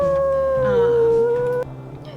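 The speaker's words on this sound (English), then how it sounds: "he come to join us in a howl" A wolf howling in the WolfQuest video game, a single long, close, sustained tone sliding slightly downward before breaking off abruptly, followed by faint background sound.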